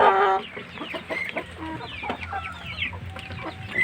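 Rhode Island Red chickens clucking repeatedly at close range, with short chirps and calls from chicks and other fowl overlapping in a busy, continuous farmyard chorus.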